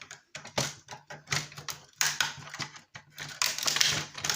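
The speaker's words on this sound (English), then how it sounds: "Okay, it snaps." Plastic casing on a discarded electronic device cracking and snapping apart during scrapping, a run of sharp clicks and brittle cracks in irregular bursts, close and fairly loud, with no talk.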